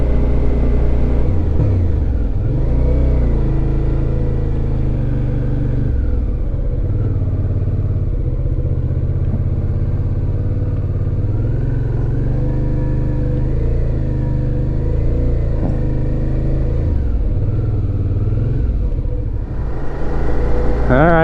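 Motorcycle engine pulling in first gear up a switchback on a mountain road through the Rockies national parks, a loud steady low rumble with wind noise, holding a constant pace for the full stretch.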